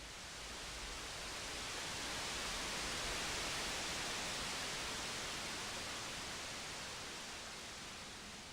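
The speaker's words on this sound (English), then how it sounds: "I downloaded pink noise." Steady broadband pink noise, a dense even hiss with a deep rushing character, holding constant throughout with no other sounds.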